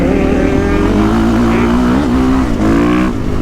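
A 2023 KTM 450 SXF motocross bike's engine revs hard and close, the pitch climbing and dipping through a few throttle blips, loud and dominant.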